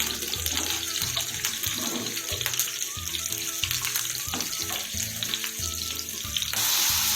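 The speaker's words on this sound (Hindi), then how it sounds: "इसे थोड़ा सा गर्म होने दूंगी, फिर इसमें अपने तड़के की बाकी चीज़ें डालूंगी।" Spices sizzle in hot oil for a tempering, a continuous crackling hiss that swells louder near the end, with no talking.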